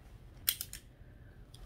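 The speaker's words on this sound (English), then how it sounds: "So let me very gently get all this tape off up here." Scissors snip quickly through packing tape on a mailed plant package, a short cluster of sharp crisp cuts followed by one faint snip, quiet and close in an otherwise still room.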